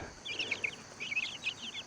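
Young chicks chirp in a small group, with repeated high-pitched peeps arriving in quick clusters over a soft, steady background.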